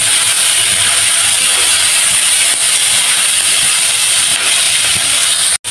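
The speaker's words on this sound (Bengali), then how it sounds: "পেঁয়াজ, রসুন, কাঁঠালের বিচি, কাঁচামরিচ ভাজা হয়ে গেছে" Onion, garlic, jackfruit seeds and green chilies fry in hot oil, giving a loud, steady sizzling hiss that runs unbroken close to the pan.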